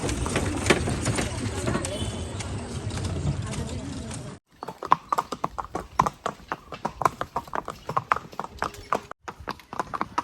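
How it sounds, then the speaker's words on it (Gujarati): Noisy rumble with voices at first, then a sudden cut to crisp, rhythmic hoofbeats of a ridden horse in Matheran clopping steadily nearby. "આનંદભાઈ કેવો એક્સપિરિયન્સ લાગેલા ઘોડા ઉપર બેહીને"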